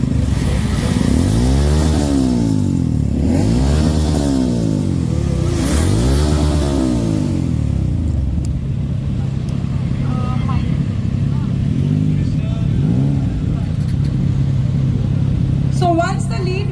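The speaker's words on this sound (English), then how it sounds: "Let's not start the bikes at once." Superbike motorcycles rev and idle together as a group Sunday ride gathers at a hospital event. The engines rumble steadily and loudly, with repeated rising and falling revs, and people talk throughout.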